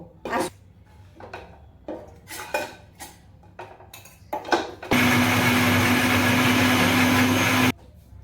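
Dried ingredients ground into a paste in an electric grinder: a few seconds of clattering utensils, then a loud, steady motor whine that runs for about three seconds and stops abruptly.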